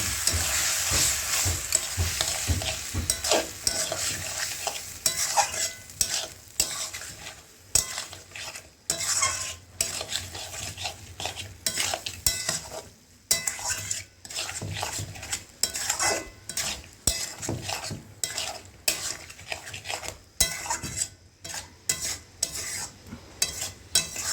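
Masala stirred into mutton curry in a hot pan, a sizzling base broken by frequent irregular scrapes and clinks of a spoon against the pan, close and continuous, without speech.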